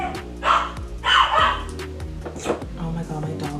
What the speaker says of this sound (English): Oh my god, my dog is going crazy.